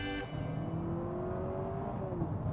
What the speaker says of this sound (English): which fakes gear changes using extra cabin sound and brake regen, which give it the feel of rising revs in sport mode